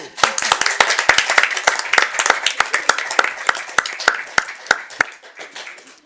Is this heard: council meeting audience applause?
yes